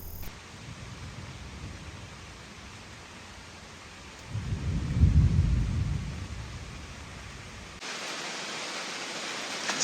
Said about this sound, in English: That loud noise was thunder and lightning